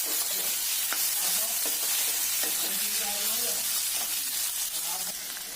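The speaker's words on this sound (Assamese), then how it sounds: "সেই আলুখিনি এতিয়া ভাজি কৰিবলৈ তাতে দি দিছোঁ" Small potatoes fry in a pan, sizzling steadily throughout while being stirred and mixed, with occasional scraping knocks and faint tonal background sounds.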